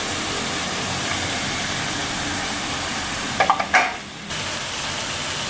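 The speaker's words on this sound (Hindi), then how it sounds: "अब मैं इसमें डालूंगी टमाटर की प्यूरी।" Chicken mince frying in a pan gives a steady loud sizzle, broken by a brief cluster of splutters and a momentary dip as tomato puree is poured in before the hiss resumes.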